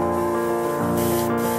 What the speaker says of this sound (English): and spray painted a matte black